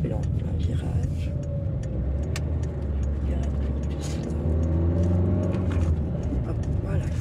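A car rolls slowly into a parking lot to park, its engine rumbling low and steady and close throughout, with a slight rise in engine noise toward the end while someone talks over it in French.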